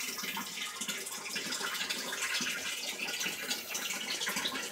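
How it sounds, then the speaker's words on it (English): Water pours steadily into an aquaponics tank as the float water refills, a continuous broadband rush and splash close by with no voices over it. "it's running out through there, and it's running into that tank"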